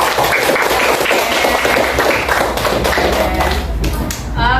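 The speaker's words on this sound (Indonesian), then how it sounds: "beri tepuk tangan untuk kita semua" Students in a classroom lesson clap together, a loud, dense patter of hand claps mixed with tapping and thuds, continuous throughout and close by.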